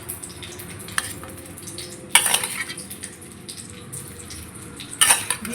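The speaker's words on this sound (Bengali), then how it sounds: "বিটের জন্য বিট আর আলু ভাজা" Beetroot and potato fry in a pan on a home kitchen stove under a low, steady background hiss. Sharp clinks of a utensil stirring against the pan break through twice, each followed by scraping. No one speaks.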